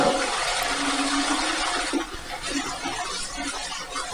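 A toilet flushes with a loud rushing gush of water, close by, that eases after about two seconds into a gurgling, trickling refill.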